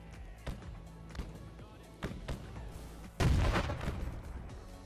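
Musket gunfire in the multiplayer Civil War video game Battle Cry of Freedom cracks out in scattered single shots, some near and some distant, then swells into a louder, dense burst of firing near the end.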